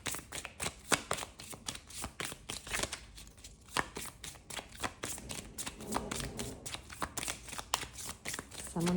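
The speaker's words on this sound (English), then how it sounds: "I'm shuffling these upside down, so things are being seen." Tarot cards shuffled upside down in a steady run of quick crisp riffling snaps, close and fairly soft, continuing throughout.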